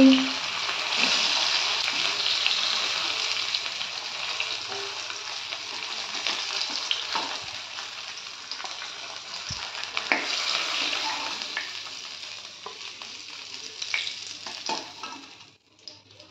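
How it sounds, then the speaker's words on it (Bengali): Hilsa fish pieces fry in hot oil with a steady, bright sizzle and crackle that lasts throughout, close and fairly loud, with a few soft clinks near the end. "ওই তেলের মধ্যেই আমি বাকি মাছগুলোও ভেজে নিচ্ছি"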